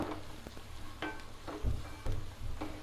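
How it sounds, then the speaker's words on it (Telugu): Methi leaves frying in a pan with garam masala and ginger-garlic paste give off a steady low sizzle, with a few louder stirring scrapes and thumps at intervals. "ఇది పచ్చిదనం పోయే వరకు కొంచెం వేగనిద్దాం"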